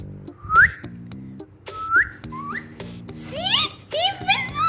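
A parrot with a large red beak whistles rising, slide-like notes, several in a row, close and loud over a steady low tonal background, with a person's brief voice mixed in.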